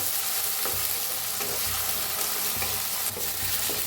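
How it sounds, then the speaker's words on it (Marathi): Tomatoes roast in a hot pan with garlic and chillies, giving a dense, continuous sizzle broken by a few scraping stirs of a spoon, close and fairly loud throughout. "टमाटो बी हलवून छान असं भाजून घेऊया।"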